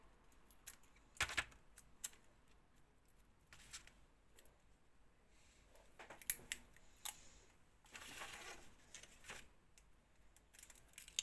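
Quiet, sharp snips and clicks come in scattered bursts, like scissors cutting paper up close in an otherwise silent room.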